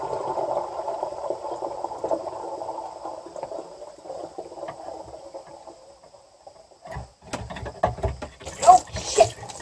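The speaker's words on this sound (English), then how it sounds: "get the water that's in the sink into 1 gallon jugs" Water from a sink is poured through a drain line into one-gallon jugs, giving a steady gurgling stream for several seconds before it turns into scattered splashes and clunks.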